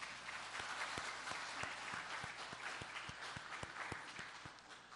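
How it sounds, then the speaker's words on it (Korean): A church congregation applauds after a choir's praise song in a Sunday service, a quiet, distant, even patter of many hands, with a few sharper individual claps standing out. "찬양이 은혜가 되셨으면 박수로 화답할까요?"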